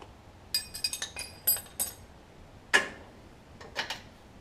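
Loose bolts from a 1959 Chevrolet Bel Air lower ball joint clink and tick against metal in a handful of sharp, separate impacts, close and fairly faint over a quiet workshop background.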